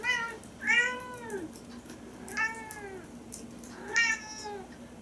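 A cat meows repeatedly up close, about four drawn-out cries spaced a second or so apart over a low steady hum.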